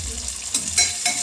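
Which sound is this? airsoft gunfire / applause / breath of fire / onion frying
onion frying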